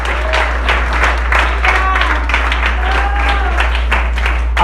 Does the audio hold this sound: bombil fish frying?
no